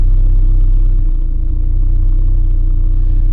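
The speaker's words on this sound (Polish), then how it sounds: "Spójrzcie jak równo ten silnik pracuje" An Opel Omega 2.0 16v running on LPG idles steadily at close range, giving a loud, even low rumble with no change in pitch.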